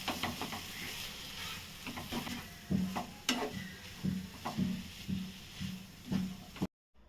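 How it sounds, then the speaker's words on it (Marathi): Grated coconut and jaggery roast together in a pan for ukdiche modak filling, with a soft sizzle under repeated scraping stirs of a spoon, close and fairly quiet, no voices. "खोबऱ्यामध्ये गूळ वितळेपर्यंत छान असं ना भाजून घ्यायचं"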